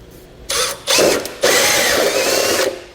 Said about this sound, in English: I'm just going to use a hole saw to cut that material out.